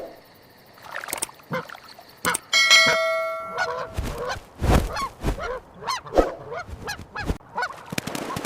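Canada geese honk loudly and repeatedly at night, parents defending their nest against an approaching red fox, with harsh overlapping calls, wing flurries and scattered thumps close to the microphone.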